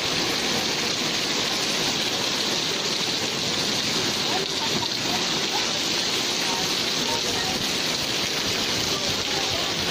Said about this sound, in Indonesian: Hari ini hujan.